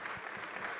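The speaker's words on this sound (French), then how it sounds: "Vous pouvez les applaudir." A brief burst of steady applause from an audience, many hands clapping together in a dense, even patter.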